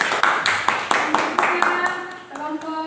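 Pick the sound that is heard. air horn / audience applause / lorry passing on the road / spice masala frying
audience applause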